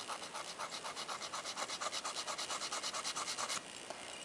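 A nail file works back and forth across gel nails in quick, even strokes, a close, steady scratching rhythm that runs for a few seconds and then stops.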